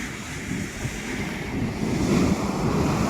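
Sea waves roll up onto a beach in a steady low rumble of surf, with wind buffeting the microphone and the wash swelling louder toward the end.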